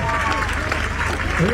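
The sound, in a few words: crowd applause at Highland Games log press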